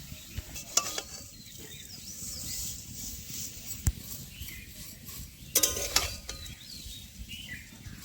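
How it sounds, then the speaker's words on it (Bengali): Semai vermicelli fry lightly in ghee for an Eid jorda dessert, with a soft close sizzle under intermittent scraping, stirring and clinking strokes of a utensil against the pan; no talking. "শিবুইটাকে হালকা করে ভেজে নেওয়া হচ্ছে"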